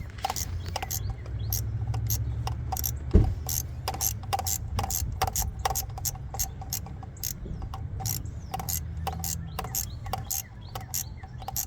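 A hand ratchet clicks quickly and steadily, tightening the thermostat housing bolts on a 2008 Town and Country 3.8 engine; close, crisp repeated pawl clicks with a single knock partway through.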